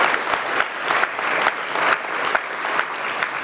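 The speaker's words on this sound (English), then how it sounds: "let's give him a round of applause" Audience applause breaks out for Roger Penske at a Detroit event, a steady wash of many hands clapping, moderately loud and continuous, with a few sharper individual claps poking through.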